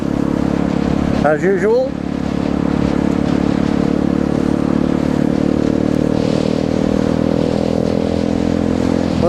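A Grom motorcycle drones steadily while being ridden, with a constant engine hum and wind rumble throughout and a brief rising whine early on, as someone talks over it.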